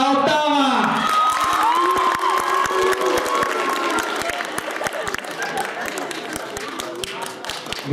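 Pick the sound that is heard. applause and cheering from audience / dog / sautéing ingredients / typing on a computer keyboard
applause and cheering from audience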